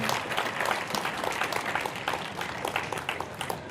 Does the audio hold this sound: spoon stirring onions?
no